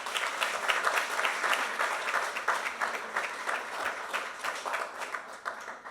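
An audience at a Harvard Human Flourishing Program event on Inner Development Goals gives steady, dense applause after a speaker's closing words, a full room clapping evenly for the whole stretch without fading.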